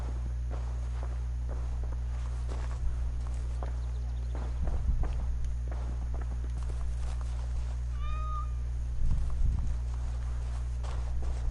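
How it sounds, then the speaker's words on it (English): In Assassin's Creed Valhalla, a cat gives a short meow amid game ambience, with hoof clip-clops and footsteps plodding steadily around it. "cat."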